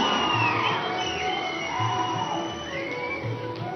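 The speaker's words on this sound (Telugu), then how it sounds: "ఇప్పుడు పద్మ విభూషణులు ఇరువురికి ఒక్కసారి గట్టిగా చప్పట్లు కొట్టి మనం శుభాకాంక్షలు" The audience at a Telangana government felicitation for Padma Vibhushan awardees responds with loud, sustained crowd noise. Whoops and rising whistles ring out over the din, with no clear clapping picked out.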